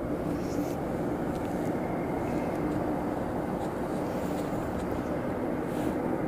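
F-22 Raptor jets at Anchorage airport, a constant low jet roar heard from a distance, broad and rumbling without clear peaks.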